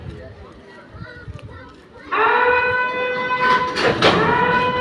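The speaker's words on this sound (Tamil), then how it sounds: "குட்ஸ் ட்ரெயின் எடுக்கிறான்." At Kadambathur railway station a goods train begins to move, with a rising rumble and a loud sustained horn or whistle tone joining after a couple of seconds, while voices and background chatter carry on around it.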